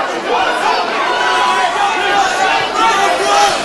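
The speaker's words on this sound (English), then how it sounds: "Richards is really getting egged on by the crowd here in great noise." A loud, dense crowd at the final bout of an FCC fight night in Bury, Richards versus McDermott, keeps up a steady roar of shouting and chatter with no pause for the whole stretch.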